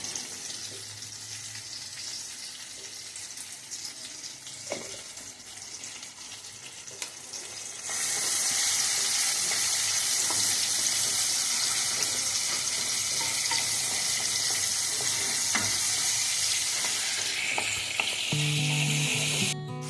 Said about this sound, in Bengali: টমেটোটা দেওয়ার পর আমি হালকা আমি একটু নুন দিয়ে দিচ্ছি যাতে টমেটোটা তেলের সঙ্গে মিশে যায়